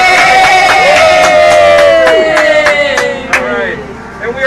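Outdoor crowd at a rally outside the Prime Minister's office in Ottawa cheering and calling out, a dense roar with scattered whoops and a sustained whistle-like tone, fading somewhat toward the end.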